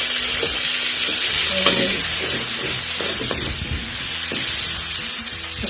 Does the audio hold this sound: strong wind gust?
no